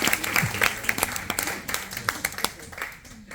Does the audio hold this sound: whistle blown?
no